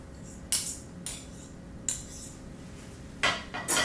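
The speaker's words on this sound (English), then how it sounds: "I'm going to use a fork, clean fork, to clean my dirty fork" A clean fork scrapes and taps against a dirty fork coated in herbed cheese and bacon mushroom filling, giving several sharp metallic clinks spaced irregularly, close and fairly quiet.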